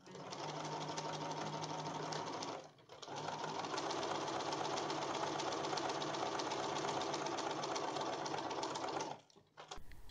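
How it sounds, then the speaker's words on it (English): Sewing machine stitching the shoulder and arm seams of a 1950s beach coat and its lining, whirring steadily and close in two long runs split by a brief pause. "I then stitched them together and repeated for the lining."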